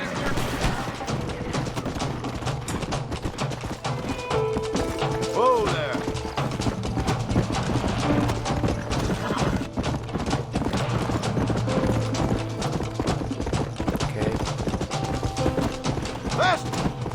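A horse gallops in the video game Red Dead Redemption, rapid hoofbeats running continuously under game music, gunfire and a neigh, with voices speaking over the action.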